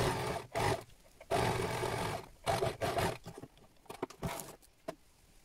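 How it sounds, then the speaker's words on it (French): Sewing machine stitching along the folded bias edge of a fabric napkin, in several short runs of buzzing stitches separated by brief pauses, close and moderately loud with no talking. "vous allez venir coudre, tout simplement"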